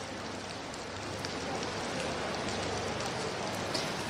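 Steady rain falls in Poltava, a dense, even hiss of drops on surfaces that holds at a constant level throughout, with no voices.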